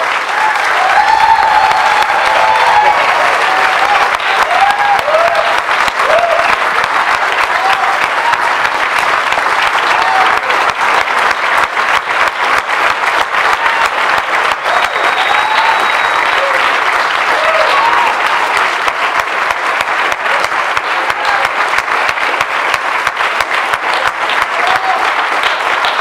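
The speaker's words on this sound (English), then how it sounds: "Let's do a round of applause" An audience delivers a sustained round of applause lasting the whole stretch, dense and steady with faint voices and whoops mixed in at a gathering featuring Jafar Abbas.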